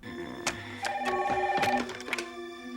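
A telephone rings with repeated electronic tones in short bursts, moderately close, with some clicks mixed in.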